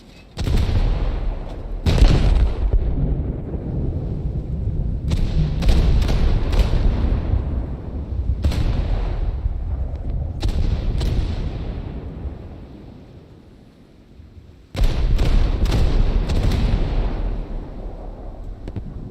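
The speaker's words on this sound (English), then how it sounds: "Here they come. Oh, shots flying." Gunfire and artillery shots in a video game, a series of loud, close booming blasts with sharp onsets, separated by a sustained rumbling roar that dips quieter near the middle before a final heavy burst.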